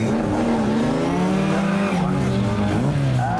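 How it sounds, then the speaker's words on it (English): A Jensen Healy Mark 1 with a 2-litre Lotus engine races up a hillclimb course. Its loud, strained engine note holds up close and rises and falls through the gears, with a brief tire squeal. "It's a Jensen Healy Mark 1"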